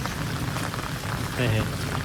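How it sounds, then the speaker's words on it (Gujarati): Steady rain pours down on surfaces in a village as evening falls, a dense even hiss throughout, with a brief tonal sound rising near the end. "વરસાદ છે ને ફૂલ અંધારો છે"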